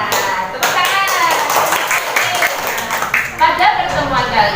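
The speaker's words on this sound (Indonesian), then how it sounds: "Tepuk tangan." A classroom of children clap their hands together in a quick, steady patter, with voices of kids chattering and calling out over the clapping throughout.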